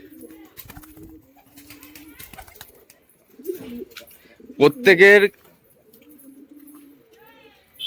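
Pigeons coo in a loft, soft throaty calls scattered through the clip, with a louder burst of cooing near the middle while someone talks close by.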